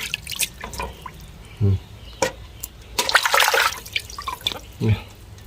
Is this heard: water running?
yes